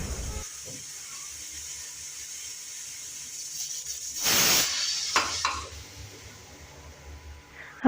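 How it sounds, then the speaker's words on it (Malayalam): A pressure cooker cooking sambar lets out a burst of steam, a loud hissing whistle rising sharply mid-way and tapering off, with softer kitchen hiss and faint clatter around it. "കുക്കർ വിസിലടിച്ചിട്ടുണ്ട്"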